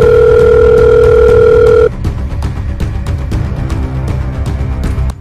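A telephone rings with a steady two-tone electronic tone for about two seconds, then cuts off, leaving muffled room noise and scattered clicks behind.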